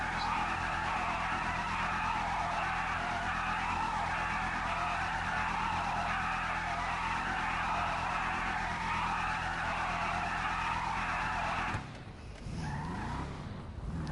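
A car skidding in the game GTA 5 Online, a long sustained tire squeal over engine noise lasting about twelve seconds before abruptly stopping, loud and close.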